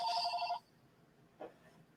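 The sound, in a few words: telephone ringing in recording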